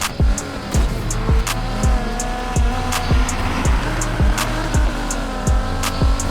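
A Ford GT in the racing game Need for Speed Heat revs hard through a rapid series of gear shifts, its engine note climbing and dropping repeatedly with tire squeal mixed in, close and loud with no talking.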